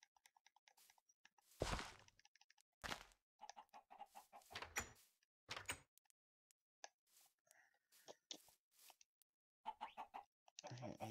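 Chickens clucking in Minecraft, a string of short scattered clucks and bursts with quiet gaps between them, fairly faint and nearby.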